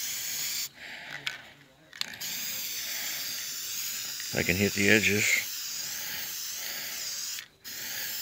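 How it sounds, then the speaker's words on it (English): A steady hiss of aerosol spray runs almost throughout, stopping briefly a few times, while a person speaks a few words partway through. "Okay, I'm going to spray paint this now."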